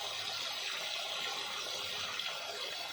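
Water running into a crayfish pond, a steady, soft, hissing flow that continues without a break, with no voices over it.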